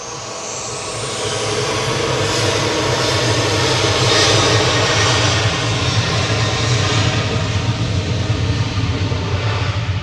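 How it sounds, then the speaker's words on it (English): A Kuwait Airways Airbus A330-900neo arriving from Kuwait City at Manchester Airport, its loud, steady jet roar holding close and broad for the whole stretch with a slight swell in the middle. "Kuwait 113, 9K APK coming in from Kuwait City, A330 900 Neo"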